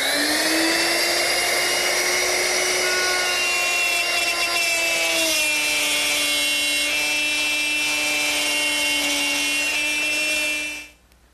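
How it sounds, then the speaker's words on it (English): A wood router fitted with a straight cutter plows a groove into a wooden box for a candle stand, giving a loud, steady high-pitched whine with layered harmonic tones that shift pitch partway through before cutting off abruptly at the end. "Now, I'll plow a groove in and stop just a little bit short of this lip."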